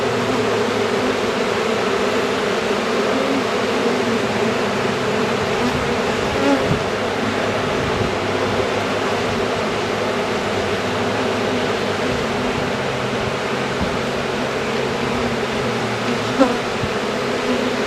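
Honey bees buzz steadily inside an opened hive in December, a dense, continuous drone of many wings close by, with only small knocks and bumps over the hum and no talking.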